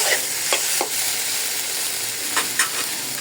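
Taro stolons with salt and turmeric being stirred in a pan, making a steady soft sizzle broken by a few sharp scraping stirs, close and clear with no talking.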